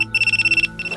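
A phone ringtone from a scene in the anime Paradise Kiss: a bright electronic trill pulsing in quick, even bursts, pausing briefly and then starting again, clear and alone.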